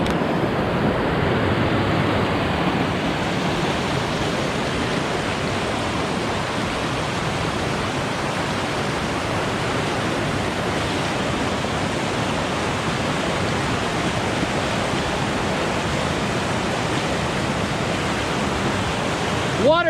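A rushing mountain stream roars loudly and continuously as it is waded on foot along the Pacific Crest Trail, a dense, unbroken wash of churning water close to the microphone.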